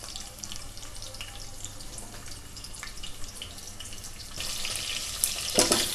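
Onions fry in oil with a soft, continuous sizzle that grows louder and brighter in the final seconds, with a few crackling pops.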